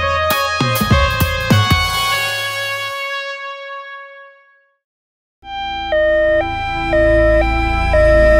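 An ambulance siren wails loudly and close, cutting off into brief silence before a steady two-tone cycle resumes at a louder level.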